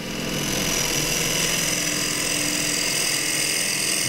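A deep-fluted bowl gouge cutting a small bowl of green wood on a lathe, giving a loud, steady, rough shearing whir over the motor hum, continuous and close throughout.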